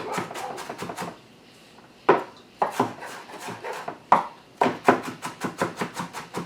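A knife rough-chops a raw onion rapidly on a cutting board, quick rhythmic taps with a short pause and a few heavier knocks, close and clear.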